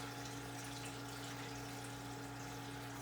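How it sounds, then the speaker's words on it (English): Steady, faint rush of water being poured into a baptismal font, a continuous hiss with a low hum underneath, no voices. "as you're blessing the water and pouring the water, you can see it just knifes down into the surface"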